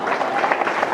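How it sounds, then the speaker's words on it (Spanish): Church congregation applauding, a dense, loud wash of many hands clapping at once across the whole moment, with no voice standing out. "¿Dónde está la gente que le para un aplauso a Cristo?"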